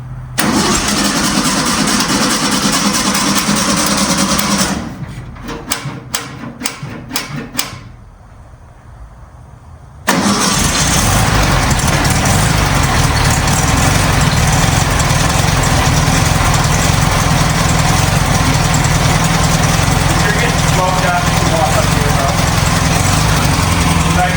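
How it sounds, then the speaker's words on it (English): A 1964 VW Beetle engine cranks with rapid stuttering bursts, falls silent briefly, then catches and settles into a loud, steady idle that runs on without talk. "We are ready to start this up with the body on for the first time and take it for a drive."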